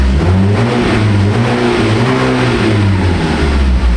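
A Ford EcoSport engine revs up to about 2,000 rpm and holds at a steady, loud drone, with low harmonic bands rising and falling slightly throughout.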